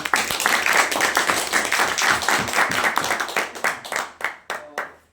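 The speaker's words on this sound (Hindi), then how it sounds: "उनके लिए तालियां बजाएं" An audience at a cricket players' talk event claps steadily, a dense patter of many hands that thins out toward the end into a few scattered, louder claps.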